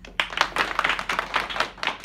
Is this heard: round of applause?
yes